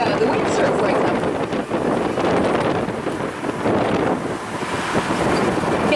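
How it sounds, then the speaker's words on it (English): Strong wind buffets the microphone by the bay in Noumea, a loud, steady roar of gusting air with a broad wash like surf underneath, continuous throughout with no clear talking. "Today, that's definitely a windy day"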